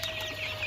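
Local hens and month-old chicks on a small poultry farm give a brief, faint clucking over steady background noise.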